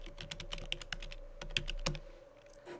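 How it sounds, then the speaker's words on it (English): An email address being typed on a computer keyboard: a steady run of light, close key taps, slowing and thinning toward the end, with no talking. "type in your email address"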